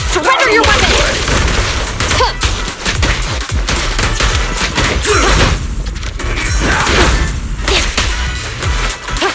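A firefight in Zenless Zone Zero: loud, sustained bursts of gunfire with heavy thuds and crashing impacts run nearly nonstop, crowding the foreground while voices shout between volleys.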